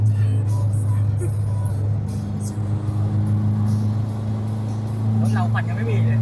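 Pickup trucks, a Nissan NP300 Navara and a Toyota Vigo, with a loud, steady low engine drone held at high revs throughout, continuous and close, with people talking over it.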